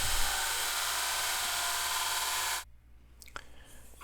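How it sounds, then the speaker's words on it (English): A loud electric sander grinds the corners off steel rod ends continuously for a few seconds, then cuts off abruptly, leaving faint clicks and rustles. "So we're going to go and put them on our sander,"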